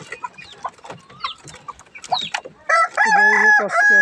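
Chickens on a farm, a rooster among them, giving scattered clucks and short calls, then a loud, sustained crow close by near the end.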